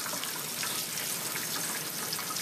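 Tap water runs steadily into a sink as an Indian Ringneck parakeet bathes, a constant bright splashing hiss with no clear individual splashes standing out.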